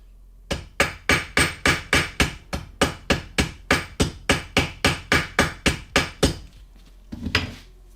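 A hammer strikes rivets into leather armor in a fast, even run of about twenty sharp, close knocks, followed by a short pause and one last softer blow.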